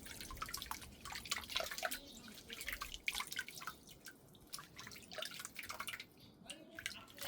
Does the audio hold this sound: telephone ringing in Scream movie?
no